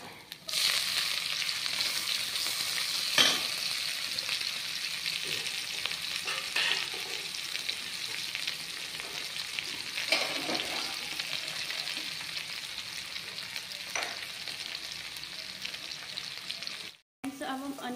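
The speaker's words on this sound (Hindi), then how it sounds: "इनको अच्छे से ब्राउन फ्राई कर लेंगे" Chopped onions with a pinch of asafoetida fry in hot oil for a bhindi boondi curry, giving a steady, close sizzle throughout with occasional stirring scrapes.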